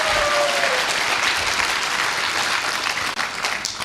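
An audience claps steadily throughout, a dense wash of many hands at close range with no talk over it, thinning briefly near the end before picking back up.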